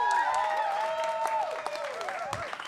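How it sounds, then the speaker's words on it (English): Audience applause with whoops and cheers at a Boston poetry event, a dense, steady wash of clapping from a crowd that holds up for nearly three seconds. "So please give a big round of applause for yourselves."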